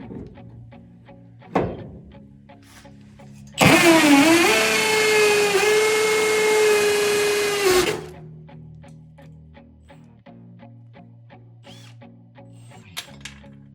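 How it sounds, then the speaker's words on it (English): A loud power drill whirs steadily for about four seconds, its pitch shifting slightly as it runs, then cuts off abruptly, with quiet background before and after. "That's a loud drill."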